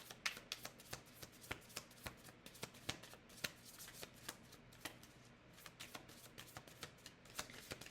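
Tarot cards being shuffled by hand, a steady run of crisp riffling slaps repeating every half second or so for about eight seconds, close and clear with no talking.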